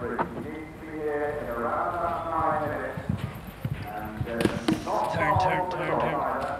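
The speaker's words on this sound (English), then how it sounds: "It's certainly still galloping, the horse." A horse gallops across a cross-country eventing course at Burghley, its rhythmic hoofbeats thudding beneath loud commentary and cheering from the crowd.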